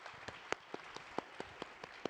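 Scattered audience claps at a summit livestream stage welcoming a guest, a sparse string of individual hand claps in a loose, uneven rhythm, faint and somewhat distant, with no talking.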